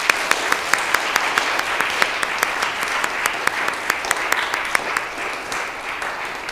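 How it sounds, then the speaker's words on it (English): An audience at a school spelling bee applauds students, a steady dense clapping with a few sharp individual claps standing out, sustained for several seconds at moderate loudness in an indoor hall. "let's give those students a round of applause."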